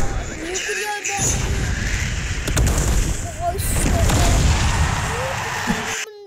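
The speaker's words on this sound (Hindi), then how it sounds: "न्यूक्लियर बॉम्ब, भाई साहब बहुत खतरनाक है न्यूक्लियर बॉम्ब।" Nuclear bomb blast in a tank video game, a loud sustained rumbling boom with crackling debris rolling on for several seconds, with no pauses.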